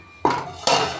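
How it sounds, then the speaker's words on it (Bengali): A lid set down on a cooking pot of khichdi: two sharp metallic clanks about half a second apart, close and fairly loud, each with a short ringing tail. "এবার আমি একটা ঢাকনা দিয়ে ঢেকে দিচ্ছি।"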